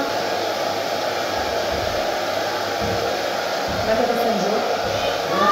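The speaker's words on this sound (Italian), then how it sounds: "Ho trovato chi mi asciuga i capelli." A hair dryer drying hair blows a loud, steady, continuous whoosh with a low motor hum, running unbroken from start to end.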